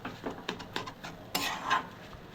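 Kachori filling of dal and masala dry-roasting in a pan for a popular Indian breakfast, with several scraping stirs of a spoon against metal and a faint sizzle, close and moderately loud, no talking.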